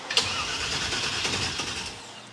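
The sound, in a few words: car engine starter cranking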